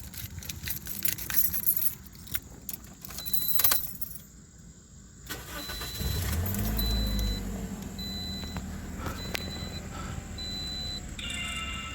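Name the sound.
keys jangling and Toyota Corolla engine starting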